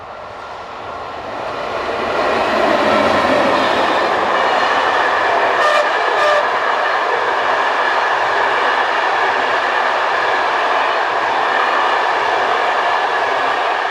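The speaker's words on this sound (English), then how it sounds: "The 1618 from Bruxelles to Asselt approaches the camera with 2739 in charge." Locomotive 2739, a Class 27, hauls a Brussels commuter train toward Hasselt, its steady rumble and rail noise rising over the first seconds, then holding loud and near with a brief high whistle-like tone midway.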